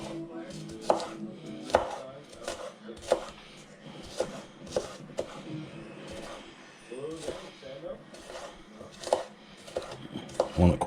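Knife chopping onion on a board in quick irregular bursts of sharp taps, close up, with a voice speaking over the cutting.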